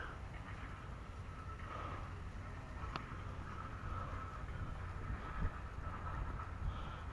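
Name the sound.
big gasoline engine running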